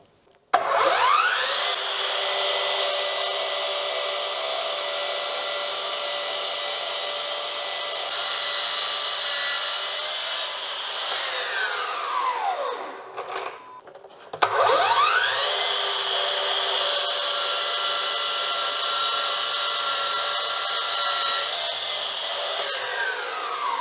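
A Bosch GCM 18V-305 GDC cordless miter saw at speed setting 1 cuts a 10 by 10 cm sucupira wood beam in two long, loud, whining passes separated by a short pause.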